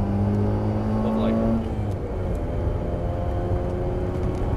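A Mazda RX8 lapping the Nordschleife, its engine droning at steady high revs with a gear change partway through, then continuing under road and wind roar; a voice talks over it.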